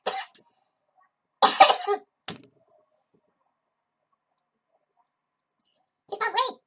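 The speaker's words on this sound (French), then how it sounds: "Dès que je mets cette caméra en route, je me mets à tousser." A person coughs and clears their throat indoors in a few separate close, loud bursts, with silent gaps between them.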